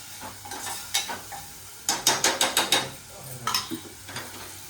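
Squid stir-fried in a pan crackles with a sizzle while a spatula scrapes in quick rhythmic strokes, a burst of about seven close scrapes, then a few more.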